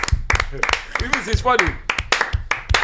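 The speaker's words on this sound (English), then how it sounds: "round of applause for" Audience clapping during a live watchalong stream of the England versus Netherlands Women's Euro 2025 match, a few scattered claps under someone speaking over them.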